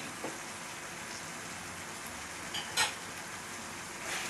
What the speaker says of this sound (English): So, just let it simmer.